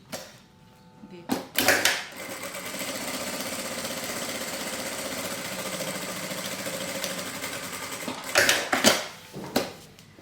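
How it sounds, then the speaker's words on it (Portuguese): Sewing machine stitching a seam on a fabric holder for wet wipes and diapers, a steady whirring run of several seconds framed by clunks and handling knocks before and after. "eu subi aqui, fiz outra costura aqui pra subir um pouquinho mais o meu bolsinho"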